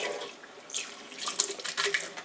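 Leftover homebrewed beer from a Pinter 2 is tipped out into a sink, a close splashing, gurgling pour in uneven bursts with no talking.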